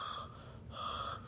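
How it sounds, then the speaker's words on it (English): Bane's heavy mechanical mask breathing from The Dark Knight Rises, two loud, close, hissing breaths with a rasping filtered edge, one in and one out, separated by a short pause. "Bane is not present without the Bane sound of going through his mouth and breathing."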